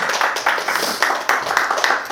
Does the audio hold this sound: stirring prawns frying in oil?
no